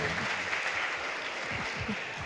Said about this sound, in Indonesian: Tepuk tangan buat guru-gurunya